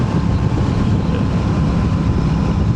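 A Royal Enfield motorcycle rated at 47 horsepower accelerates, a low steady engine drone mixed with heavy wind rush, close to the rider with no speech.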